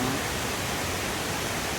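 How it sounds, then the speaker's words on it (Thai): A large, fairly tall waterfall roars close by as a steady, dense rush of falling water, with no voices or other sounds over it. "น้ำตกของลาน ค่อนข้างใหญ่นะ"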